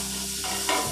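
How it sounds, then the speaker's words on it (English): Chopped vegetables for a gumbo hit hot fat in a pot and sizzle steadily up close, with stirring and a louder surge of frying partway through, no voices. "you're gonna hear a good sizzle"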